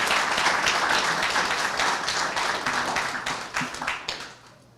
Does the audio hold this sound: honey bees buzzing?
no